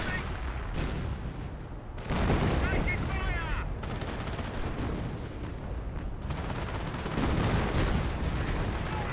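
Gunfire and artillery barrage from the World War II strategy game Company of Heroes 1, with anti-tank guns and Panther tanks, sounding as dense overlapping shots and booms that swell in loud bursts throughout.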